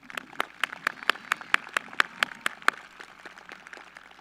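A small scattering of applause at a high school commencement ceremony, sharp individual claps in a fairly steady rhythm that thin out and soften toward the end, heard from a distance and fairly faint.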